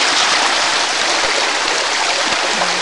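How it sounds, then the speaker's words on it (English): A small forest creek flows in a steady, close hiss of rushing water, broad and unbroken, with a few faint bumps and clicks and no talking. "It looks a lot better off camera, but it is a nice little creek."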